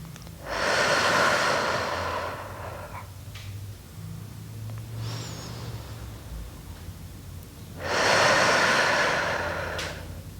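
Two long, loud breaths during a trauma-release breathing exercise, each a broad airy rush lasting a few seconds, separated by a quieter stretch with faint background hum.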